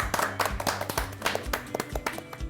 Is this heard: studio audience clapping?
yes